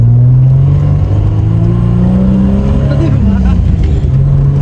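A loud 1989 Acura Legend engine revving up and down, its pitch rising and falling in long sweeps, close by and rumbling throughout.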